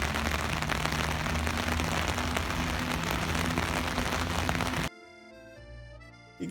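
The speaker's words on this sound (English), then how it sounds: "listen to the rain in the garden across the river from the Notre-Dame Cathedral" Steady rain falls in a garden across the river from Notre-Dame Cathedral in Paris, a dense even hiss of drops on surfaces for about five seconds before giving way abruptly to soft music.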